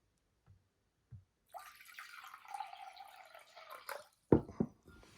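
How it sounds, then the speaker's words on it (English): Tap water poured to top up a container to 250, a faint trickle and splash lasting a couple of seconds amid a few soft drips and clinks in a quiet room. "To then top it up to 250 with council pot tap water."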